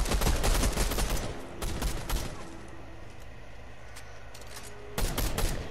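Rapid bursts of video game gunfire in Fortnite, dense firing at the start, a quieter spell of softer rattling in the middle, then another loud volley near the end, close and harsh.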